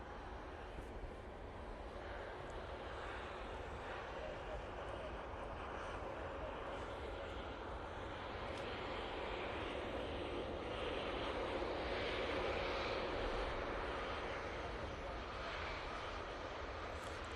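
An Etihad airliner takes off at Manchester Airport, a steady broad engine roar that swells gradually and peaks near the end while staying fairly distant. A voice is faintly audible at times.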